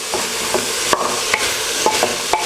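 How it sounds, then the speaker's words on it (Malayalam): Rice being stirred in hot oil with masala and onion while making home-style mandi, a steady sizzle under repeated scraping strokes of a spoon against the pot, close and fairly loud, no talking. "ഈ എണ്ണയിലൊന്ന് വഴട്ടുക."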